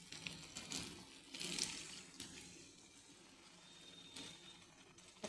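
Water pours into a pan of spiced chicken curry masala coated with turmeric and chilli powder, a soft splashing and trickling with a few louder bursts, close and fairly quiet, with no talk.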